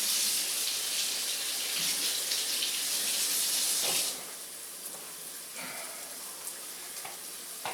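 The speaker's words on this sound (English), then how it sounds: "Rinse my knife real quick." Tap water runs hard over a kitchen knife while it is rinsed, a loud close hiss that cuts off abruptly about halfway, leaving quieter kitchen noise with a few faint clicks.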